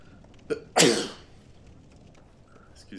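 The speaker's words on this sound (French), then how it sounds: "Excusez-moi, petit éternuement." A single short, sharp sneeze bursts out close to the mic during a live Dark Souls HD session, preceded by a quick intake of breath and followed by quiet background sound.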